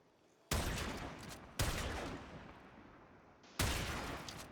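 Three heavy gunshots from the primed chamber weapon in a video game, each a loud sharp blast with a long decaying tail, spaced about a second or more apart, close and clear with no speech.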